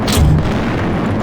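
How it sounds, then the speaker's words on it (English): A grenade going off in System Shock 2, one loud, close, low boom with a rumbling tail that fills the moment, alone without talk. "Let's finish off all the grenades I have."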